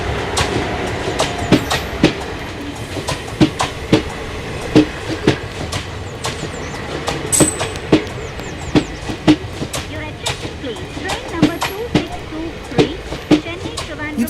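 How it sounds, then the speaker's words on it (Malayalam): The Howrah Express pulls into a station with a steady run of sharp wheel clacks over rail joints on top of a continuous rumble, loud and close, with a brief high squeal partway through. "ട്രെയിൻ വന്നു."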